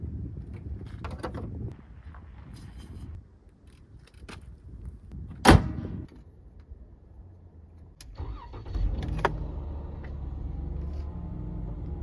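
A camper van engine cranks and catches, with a sharp click and a louder turnover burst midway, then settles into a low rumbling idle that carries on to the end, heard nearby with faint background activity.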